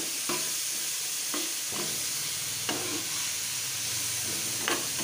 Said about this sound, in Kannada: ಎಣ್ಣೆ ಕಾಯ್ತಿದ್ದಂಗೆ ಇದಕ್ಕೆ ದೊಣ್ಣೆ ಮೆಣಸಿನ್ಕಾಯನ್ನು ಹಾಕಿ ಕ್ಯಾಪ್ಸಿಕಮ್ಸ್ನ ಫ್ರೈ ಮಾಡ್ಕೊಳ್ಳೋಣ.